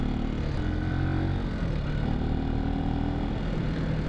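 A Benelli TNT 125 city motorcycle's engine and exhaust run steadily close by, a dense, throaty drone with slight rises in pitch and no pauses or talk.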